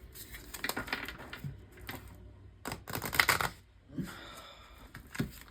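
Tarot cards being shuffled by hand, giving a series of crisp riffling bursts and soft flicks with short pauses, fairly close and moderately loud, with no talking.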